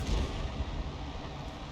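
A tank cannon fires in a tank video game, giving a low, muffled boom that rumbles out over under two seconds at moderate loudness with no voices.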